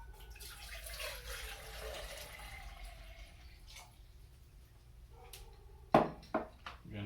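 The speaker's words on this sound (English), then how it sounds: "we're going to add the water." Water pours into a small camp stove pot, a faint, continuous trickling splash close by that fades, followed by a few sharper metallic taps and drips near the end.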